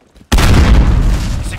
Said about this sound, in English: Throwing grenade. Throwing a flash. Grenade out.